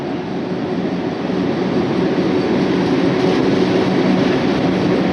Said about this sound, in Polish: ten pociąg ciągle nade mną jedzie, bo nade mną jest most kolejowy